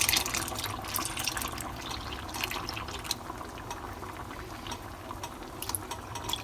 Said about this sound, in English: I've stirred up the half and half with some cornstarch, and I'm going to go ahead and add it in a little at a time